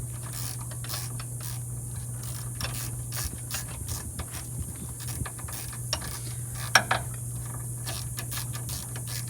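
A hand ratchet turns bolts on the brake caliper of a 1971 Oldsmobile Delta 88 Royale, making quick bursts of close, crisp clicking with brief pauses, over a low steady hum.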